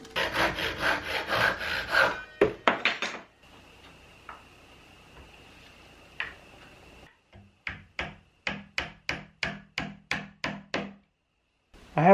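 A Japanese pull saw cuts 90-degree wooden trim for a castle bunk bed. Rough scraping comes first, then a quiet pause, then a steady run of about ten quick, crisp saw strokes close up.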